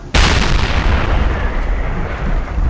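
A tank cannon fires once in World of Tanks from an RHM Borsig tank destroyer: a loud, sudden blast followed by a long, heavy rumbling decay, with no talking.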